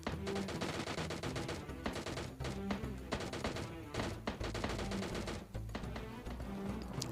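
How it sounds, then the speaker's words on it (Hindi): Rapid bursts of gunfire in the video game PUBG Lite, fast sharp shots in dense volleys with short pauses, heard at moderate volume with background music. "इसको जब मार रहा था तो मुझे पीछे से फायरिंग का साउंड आया"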